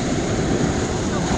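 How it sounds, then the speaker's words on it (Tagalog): Strong ocean waves break on the shore at Tacloban, Leyte in summer, a brief, loud roar of surf mixed with wind buffeting the microphone. "Ang lakas ng alon eh."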